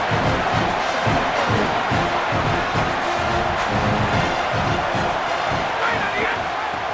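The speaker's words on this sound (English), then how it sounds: "This crowd knows when to bring it." A stadium crowd in a College Football video game roars continuously, a dense wash of cheering and noise that stays loud and steady throughout with no breaks.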